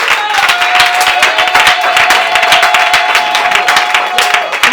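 A crowd at a women's business lunch claps loudly and continuously to acclaim Jesus, a dense rapid patter of many hands with a steady tone sounding beneath it.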